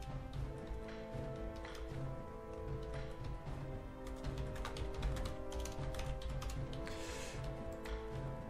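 Rapid clicking of keys on a computer keyboard as a chat message is typed during a World of Warcraft battleground, steady irregular taps running throughout over game music and background sound.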